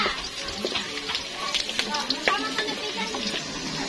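Meat sautéing in a hot pan gives a steady nearby sizzle with scraping stir strokes, while people talk over it throughout.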